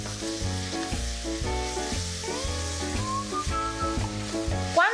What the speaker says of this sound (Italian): Continuiamo a rosolare tutto insieme ancora qualche istante.